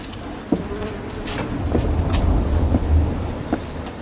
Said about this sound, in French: c'est de l'abeille noire, c'est pas de la buckfast comme j'ai en haut au rucher